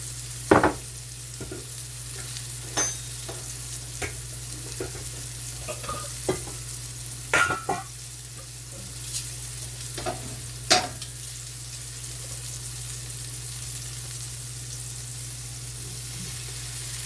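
Italian-style meatballs fry in a smoking pan, giving a continuous low sizzle broken by scattered sharp pops and spatters and a few stirring clicks, close by with no talking.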